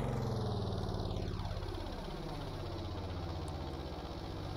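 A ship's engines run steadily in a video game, a deep continuous rumbling drone with a pulsing low throb and a tone sweeping downward as the load eases.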